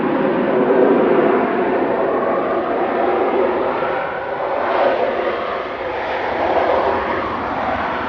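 A passenger airplane on flight 834 from Nice arriving at Manchester Airport, a loud steady engine roar that swells and eases slightly, heard from nearby, with no talk.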